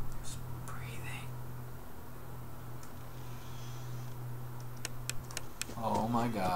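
Creepy, breathy sounds in the horror video game Five Nights at Freddy's 4, soft and close over a low steady hum, with faint ticking and a short electronic warble near the end.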